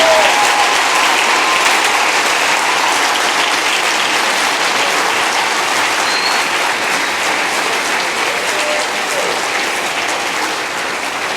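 A conference audience at a Grand Bahama technology summit breaks into loud, sustained applause, a dense wash of many clapping hands filling the room with no speech over it.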